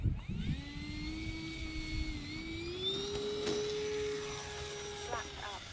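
A remote control Spitfire model airplane takes off at dusk. Its motor gives a steady, fairly close whine that climbs slightly in pitch and holds through the run, over light background noise.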